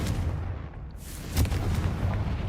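Confringo fire spell cast in the Hogwarts Legacy video game, a single blast bursting out loud and close over a low rumbling game background, then fading into continuing ambience.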